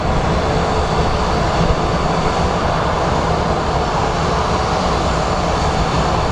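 An American Airlines jet in Flagship Valor livery, with military medals painted on its side, runs its engines at Phoenix Sky Harbor International Airport, giving a steady, loud broadband roar that holds without change throughout.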